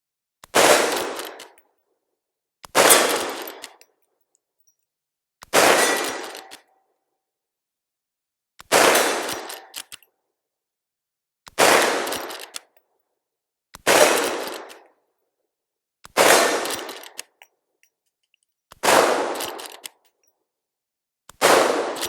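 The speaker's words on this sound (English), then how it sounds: "This rifle is chambered in the 41 Remington Magnum. Now, I'm going to shoot it a few times" Nine loud, evenly spaced shots from a Henry Big Boy Steel lever-action rifle chambered in .41 Remington Magnum, each a sharp crack with a decaying echo, separated by pauses of roughly two and a half seconds while the action is cycled.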